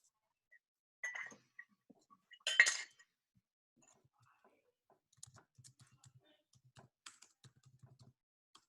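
A computer keyboard clicks quietly in short, uneven runs of light key taps, close by and faint, after a couple of brief sharper sounds, with no talking.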